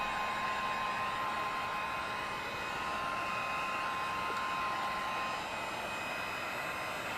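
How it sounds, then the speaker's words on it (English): An electric heat gun blowing over a puddle of ink on a canvas, a steady close whooshing hiss with a constant motor whine, running unbroken throughout. "I'll lay the electric heat gun"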